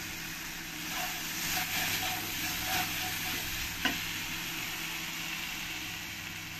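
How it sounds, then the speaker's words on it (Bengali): Spices for chicken curry are sautéed together in a pan, giving a steady soft sizzle with a few faint stirring scrapes, close and low in level. "দিয়ে ভালো করে আমি একসঙ্গে কষিয়ে নেব"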